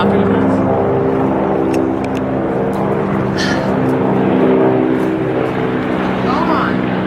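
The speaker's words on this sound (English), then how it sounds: "should we wait for this helicopter to pass?" A helicopter passing overhead outdoors, a loud, steady engine and rotor drone with low humming tones that fills the whole stretch without fading.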